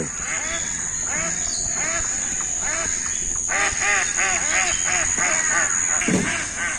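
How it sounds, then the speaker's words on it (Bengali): Domestic farm ducks just let out into a village wetland at evening quack repeatedly in overlapping bursts, close and loud, a busy flock chorus with a steady hiss behind and brief voices. "আমাদের বিলে যে হাঁসের বাতান একজনে ফার্ম করছে তো হাঁসের সেগুলো এখন বিলে ছেড়ে দিছে"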